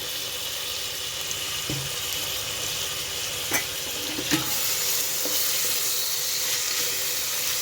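A steady sizzle rises from a mutton gravy curry after a chopped tomato goes into the hot pan, continuous and fairly loud, with a few sharp clicks and utensil knocks scattered through it.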